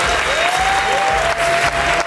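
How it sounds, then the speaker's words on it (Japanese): Applause at a Men's Physique bodybuilding contest final in Japan: dense, loud clapping from an audience, with a faint tone running through it and brief dips in level. "皆さん、大きな拍手"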